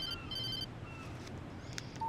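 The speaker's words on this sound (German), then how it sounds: "Telefon?" A telephone in Alan Wake gives a faint electronic ring, a couple of short trilling bursts near the start over a quiet low hum, with a few soft tones afterward and no talk.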